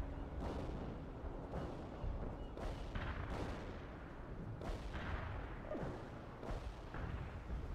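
Artillery fire in the real-time strategy game World in Conflict, a rapid series of heavy booms and blasts every second or so, with rumbling decays overlapping into a continuous barrage.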